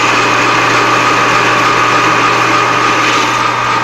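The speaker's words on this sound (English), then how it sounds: "So we're going to bore it one more time." A machine bores out a steel pipe piece for a bushing, giving a steady, loud, high whine with an even mechanical hum beneath it. The sound holds constant for the whole stretch.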